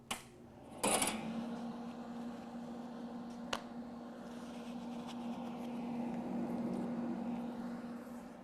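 A gas-shielded welding machine is switched on for spot and rosette welding: a sharp click, then a steady low electrical hum that holds on without a break, fairly close and moderately loud.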